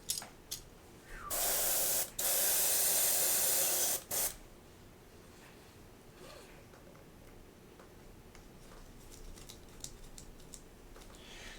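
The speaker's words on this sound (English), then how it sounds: "We'll just spray this out." Airbrush spraying white paint out while painting a miniature, two loud steady hissing bursts of about one and two seconds close to the mic, followed by quiet clicks and faint handling noise.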